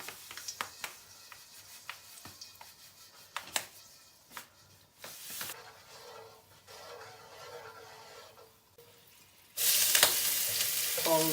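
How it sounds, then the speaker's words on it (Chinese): Oil and sugar fry in a wok while caramel colour is made for braised bones in a rural kitchen. Soft sizzling runs under scattered utensil clinks and stirring scrapes, then a loud, dense sizzle bursts in near the end. "倒点油，放点糖， 炒个糖色。"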